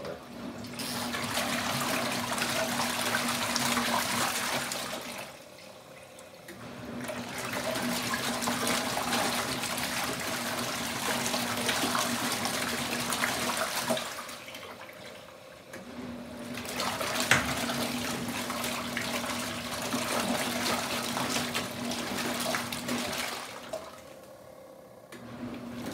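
Water pours in long rushing bursts into a portable washing machine, three sustained gushing spells separated by short pauses, loud and close.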